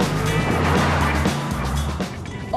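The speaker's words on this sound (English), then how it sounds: "The engine is a bit noisy too." A Renault Fluence with a 1.6 litre petrol engine runs loud and close, a steady, somewhat noisy engine hum with road rumble that rises and shifts briefly as the car drives.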